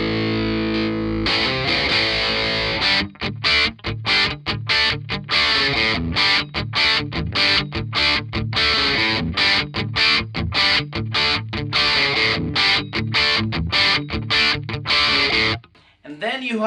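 Electric guitar plays driven, distorted rhythm chords through a Marshall Valvestate VS100R amplifier's overdrive channel, loud and up close, with crisp chugging stops before ringing out at the end.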